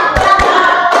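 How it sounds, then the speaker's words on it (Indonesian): A few sharp hand claps ring out in a classroom, spaced unevenly and close by, with a tonal voice-like sound carrying between them. "Beri tepuk tangan, good job."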